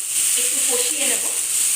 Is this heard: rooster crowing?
no